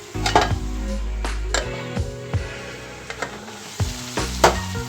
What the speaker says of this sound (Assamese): ধুনীয়াকৈ ভাজি থাকিম এতিয়া